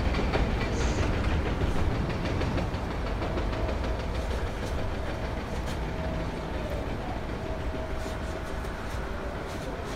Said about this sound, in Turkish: Üstümüzde tren var galiba.